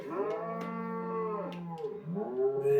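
A cow in the game Deeeer Simulator gives long, drawn-out moos that bend in pitch, close and clear over quiet game background.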